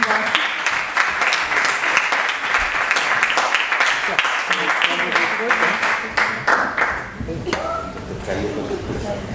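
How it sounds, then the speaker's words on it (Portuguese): An audience at a mental-health prevention festival talk bursts into sustained applause and clapping, loud and continuous, fading near the end as a voice speaks over it. "Uma salva de palmas,"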